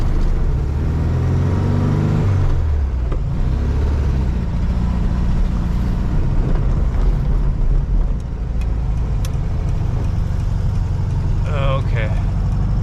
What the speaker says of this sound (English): Car idles fine now once it's warmed up